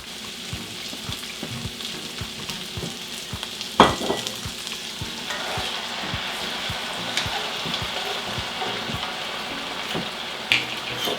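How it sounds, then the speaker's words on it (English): White wine, a half cup of a local Lake Chelan white, hits a hot skillet of bacon and chicken and sizzles steadily, with scraping and stirring knocks and a sharp burst near the start, close and fairly loud with no talk. "You start adding your liquids, you're going to want to scrape the bits off the bottom of your skillet, and that is called deglazing"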